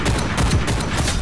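Rapid bursts of shotgun fire from the first-person shooter game Ghost in the Shell: First Assault crack in quick succession, loud and dense, with no voices.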